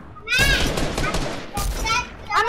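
Rapid bursts of video game gunfire crackle loudly in two clusters, with excited young voices talking over the shots.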